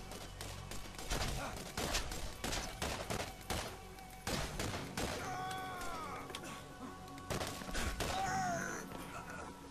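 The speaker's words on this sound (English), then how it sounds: "I clicked it once and fired like 5 shots" A gun in the shooter game Borderlands fires a rapid string of shots in quick bursts, loud and close, mixed with game sound effects and tones, with someone talking now and then.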